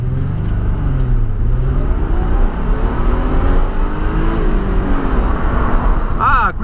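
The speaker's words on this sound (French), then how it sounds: "Bon bah nous allons maintenant tester l'accélération." A Ford Probe V6 car accelerating, a loud close engine drone rising in pitch with a gear change near the end, steady and dominant, with some talking in the car.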